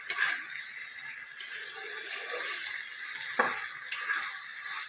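Potatoes sautéing in spice masala in a pan give a soft, continuous sizzle with faint stirring scrapes, fairly quiet and close, no voices.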